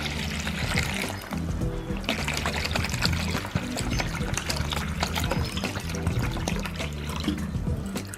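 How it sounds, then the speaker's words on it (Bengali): Tamarind water poured into a bowl for pani puri, a steady liquid splash and trickle running continuously and fairly close, with a low background hum throughout. "এবার আমি এই জলটা এর মধ্যে ঢেলে দিচ্ছি, তেঁতুল গোলা জলটা।"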